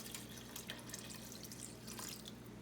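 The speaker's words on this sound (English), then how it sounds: "now I'm gonna go ahead and add some water" Faint steady stream of water poured into a cooking pot on the stove, a soft continuous splashing with light dripping, heard alone.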